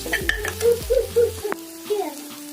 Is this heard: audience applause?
no